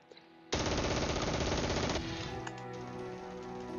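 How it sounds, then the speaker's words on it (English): Gunfire in Close Combat 3 rattles out as a dense, loud automatic burst lasting about a second and a half, then trails off into ringing echoes and scattered quieter shots. "And they're still firing."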